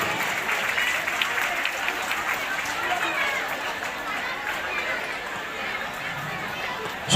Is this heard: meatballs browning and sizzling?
no